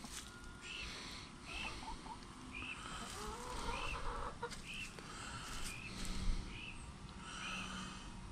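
Backyard chickens, including red and black hens, cluck repeatedly while pecking at scraps and mealworms, with a steady chorus of short calls over rustling outdoor background.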